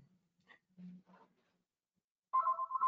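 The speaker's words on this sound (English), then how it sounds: "I've got a phone ringing in my ear right now." A telephone rings during a live online webinar, its bright electronic trill starting abruptly near the end after a few faint, scattered sounds and near silence.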